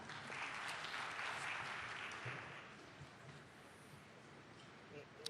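An audience at a Korean Ministry of Education R&D presentation applauds, a sustained wash of clapping that swells early and tapers off gradually, heard from a distance and fairly faint.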